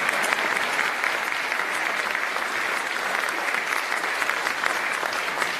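An audience applauds at a BMW event celebrating a partnership with Clemson University, with even, sustained clapping from many people that holds steady throughout.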